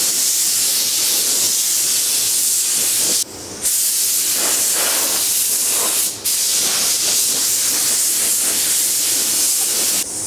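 A spray gun hisses steadily while painting VW Bus T5 parts in a paint booth, a loud continuous airy spray broken by two brief pauses as the trigger is released.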